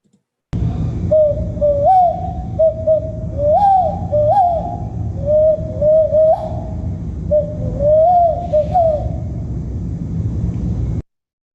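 A person imitates an owl with a bird call, giving a series of hooting, wavering whistled notes in several bursts over a low rumbling background, loud and close.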